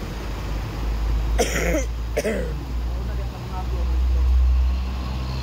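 Two short coughs or throat clears break out close by inside a vehicle on a long night road trip from Cavite to Samar, over a steady low road and engine drone.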